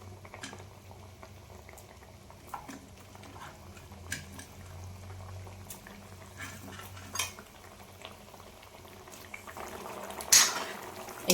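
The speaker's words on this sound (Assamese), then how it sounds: "এতিয়া উতলি আছে, মাছ দি দিওঁ।" Fish curry with curd bubbling in a pot, a steady soft simmer with occasional light clinks of a utensil against the pan and a louder scrape near the end.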